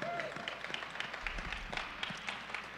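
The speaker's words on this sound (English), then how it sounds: "Yes, you can clap." An audience at a Native American presidential candidate forum claps in a scattered burst of applause, individual hand claps audible through a roomy, moderately loud spread with a low rumble underneath.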